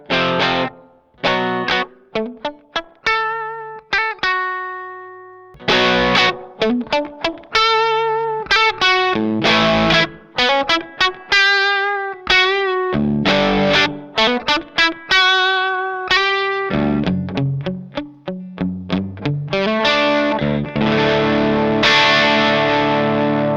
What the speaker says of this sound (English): We'll leave the control at noon and just hit it on and off, so you can hear even at like halfway it's got a hell of a lot of punch